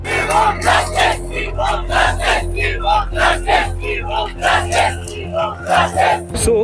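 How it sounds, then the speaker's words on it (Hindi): A large crowd gathered at a street protest, voices rising and falling in loud rhythmic chanting bursts, close and continuous, ending with a sharp knock. "आज के दिन तो काफी भीड़ है।"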